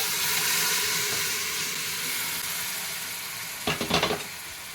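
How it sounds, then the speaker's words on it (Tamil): Boiled mutton is tipped into a pan for sautéing mutton chukka gravy: a steady sizzling hiss runs throughout, then a quick burst of close stirring scrapes near the end. "ஒரு 2 நிமிஷம் வரைக்கும் வதக்கின பிறகு மட்டன் எடுத்து இதில் ஊற்றிக்கலாம்."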